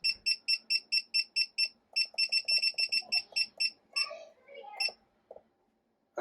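A Grainfather brewing controller beeps at boil temperature, a rapid run of evenly spaced high electronic beeps with a short pause midway, then a few button clicks and faint handling noise as it stops.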